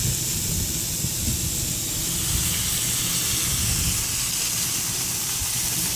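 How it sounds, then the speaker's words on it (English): Onions caramelize on a new flat-top grill with a continuous, even sizzle and hiss at moderate volume, steady throughout with no talking. "Caramelizing onions on the side."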